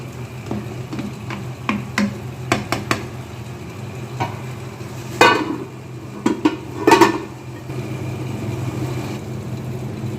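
A lid settles onto a cooking pot of karela chana dal with a few light metal taps and two brief clattering clanks over a steady low kitchen hum.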